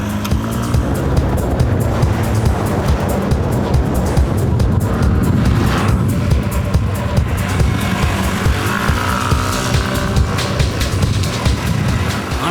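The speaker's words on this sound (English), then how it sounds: "I'm really cranking it now." A small 100cc four-stroke scooter engine revs hard and steadily for several seconds, loud and close, its buzzing drone rising and falling without pause.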